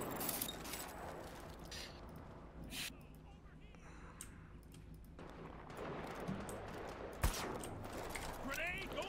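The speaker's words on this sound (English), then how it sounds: "I can actually shoot this guy probably from this" First-person shooter gunfire plays at low volume, with scattered shots and short bursts over a busy game soundscape and one sharper crack near the end.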